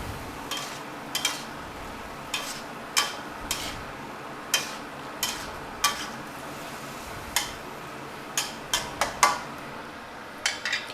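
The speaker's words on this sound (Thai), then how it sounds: "ผัดคลุกเคล้าให้เข้ากันครับ" Pork with ginger and dark soy sauce is stir-fried in a pan, with a utensil clinking and scraping against the metal in a string of sharp, irregular taps over a quiet background.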